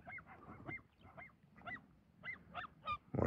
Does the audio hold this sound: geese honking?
yes